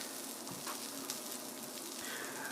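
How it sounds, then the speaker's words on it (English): Steady, close sizzling of food frying in a hot, smoking pan, a continuous crackling hiss with small pops throughout. "It's sizzling away and it's starting to smoke."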